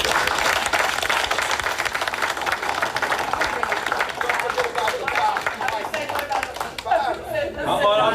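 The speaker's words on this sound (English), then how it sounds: "I think she deserves a round of applause for her daughter" Audience at a Homer Township monthly meeting claps steadily and loudly for several seconds, a dense wash of hands with some chatter mixed in, thinning out toward the end as a voice begins.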